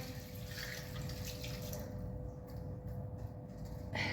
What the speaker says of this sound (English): And then wash your hand.